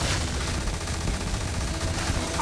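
Continuous dense gunfire from the space shooter Starfield, a loud steady barrage filling the whole stretch with no talk over it.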